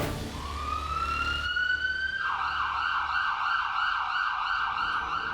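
An ambulance siren blares loud and close, a rising wail that settles into a rapid warbling yelp, steady and alone with no voices.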